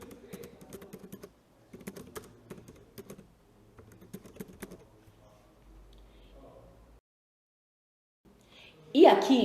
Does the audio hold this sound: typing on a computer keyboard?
yes